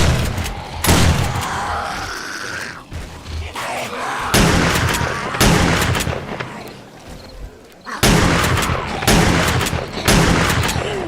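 Gunfire in the survival game 7 Days to Die: loud, rapid bursts of shots in several long volleys separated by short pauses, close and harsh, with booming impacts mixed in.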